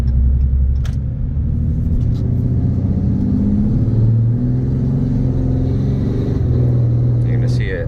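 A 2022 RAM 2500 Laramie truck cruises on the road, heard as a continuous deep cabin rumble with engine and tyre drone that shifts slightly in pitch, loud and steady throughout.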